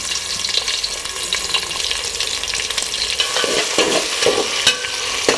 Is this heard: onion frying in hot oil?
yes